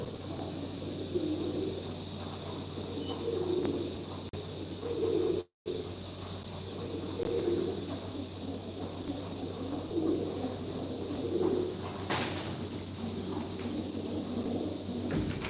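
Pigeons kept in a loft in old Mardin coo in repeated soft, low burbling phrases, steady and fairly close against a faint background hum, with a brief dropout partway through.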